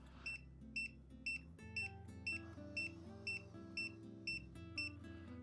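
A tire pressure monitoring system gives an alert of about ten short, evenly spaced electronic beeps that sound clear over a low background hum, with no talking.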